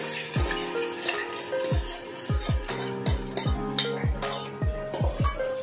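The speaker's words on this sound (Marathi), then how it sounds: "आता हे वाटण आहे ना आपण चांगलं फ्राय करून घेऊया तेलामध्ये." Ground spice paste frying in oil in a metal pan while being stirred, with a steady sizzle under repeated ringing clanks of a spoon against the pan, close and loud.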